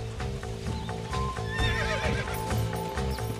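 A horse in the Red Dead Redemption video game whinnies loudly while its hooves clip-clop in a steady rhythm underneath, close and with no talking.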